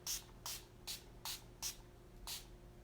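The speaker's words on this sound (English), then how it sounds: "So I'm going to, one more spray for the road." Makeup setting spray misted onto the face from a pump bottle, six short close hissing bursts in a steady rhythm about every half second, alone with no talking.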